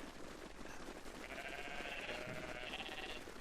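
Bighorn sheep and goats in the game Everything bleat together, with a drawn-out, wavering cry standing out over a dense, continuous chorus.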